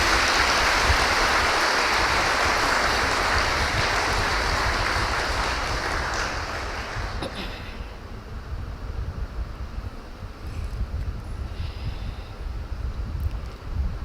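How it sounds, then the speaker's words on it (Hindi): Audience applause at a spiritual discourse for Sadguru Kabir Jayanti 2021, a dense burst of clapping that fills the first seven seconds and then fades to a quieter rustle. "इस बात पर एक ताली तो बनती है।"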